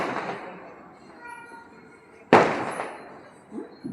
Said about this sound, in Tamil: பட்டாசு